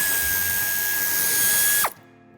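Ratchet wrench on a bumper screw in the wheel arch of a 2019 Ford Focus IV Sportbreak: a steady, close, buzzing ratchet whir that runs nearly two seconds and stops abruptly, with no talk.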